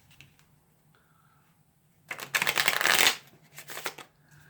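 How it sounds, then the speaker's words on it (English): A plastic deck of playing cards is riffle-shuffled once, close and fairly loud, in a dense rapid flutter lasting about a second, then a few softer taps as the cards settle in a quiet room. "So I'll give it one more shuffle."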